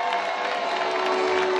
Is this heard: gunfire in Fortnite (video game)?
no